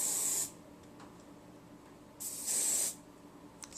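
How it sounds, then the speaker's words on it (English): Hairspray hisses from an aerosol can onto a hair bow in two short bursts, close and alone. "use some hairspray"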